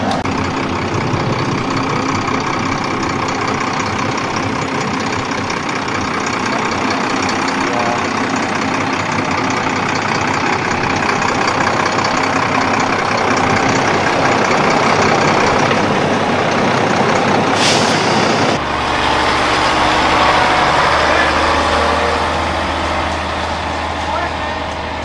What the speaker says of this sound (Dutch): nu komt de vrachtwagen van de zweefmolen er ook aan